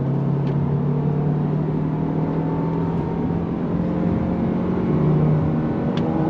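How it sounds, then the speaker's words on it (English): A 2024 Toyota Grand Highlander SUV with all-wheel drive and an 8-speed automatic accelerates in sport mode, giving a steady, loud engine drone with a low hum from inside the cabin, without speech. "I have it in sport mode, on throttle, here we go. With that all-wheel drive system and the 8-speed automatic."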